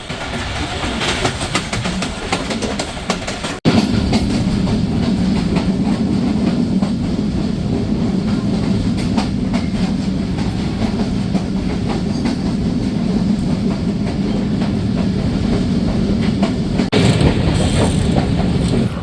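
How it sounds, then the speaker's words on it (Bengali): The Tungipara Express, a Bangladeshi train, roars through a station without stopping, a steady loud rumble of wheels and rushing air after a sharp onset, with a brief high squeal near the end. "এই স্টেশনটি থ্রুপাস করার সময় ট্রেনটিও বেশ সুন্দর লাগছিল দেখতে"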